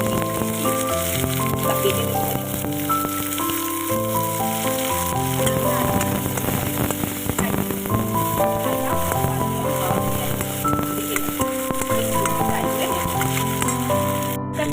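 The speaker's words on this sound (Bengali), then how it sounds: "এবারে পেঁয়াজগুলোকে আমি দিয়ে দেবো পেঁয়াজ" Sliced onions hit hot mustard oil tempered with bay leaf, frying in a loud, continuous sizzle with occasional stirring, while music plays steadily in the background.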